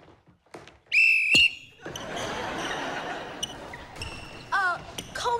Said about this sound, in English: would you mind not blowing the whistle so loud?